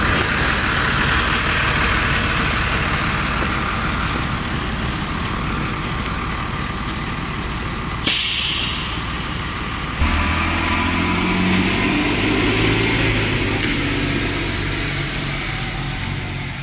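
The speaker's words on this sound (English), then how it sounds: "This is a 2008 Thomas C2 with the MBE 906, which I definitely love that engine." A 2008 Thomas C2 school bus diesel engine, a Mercedes MBE 906, idles steadily nearby, a continuous low rumble with a brief break partway through, no voices.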